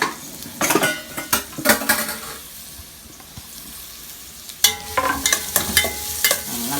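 Ingredients for katta sambol with dried Maldive fish are sautéed in a pan, with repeated sharp clinks and scrapes of a utensil against metal over a steady sizzle, a quieter pause midway, then more bursts of stirring up close.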